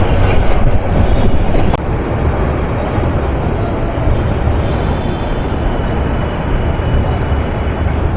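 The Turag Commuter train runs on the rails near Dhaka in a steady, loud, continuous rumble of wheels and carriages, with no break in the noise.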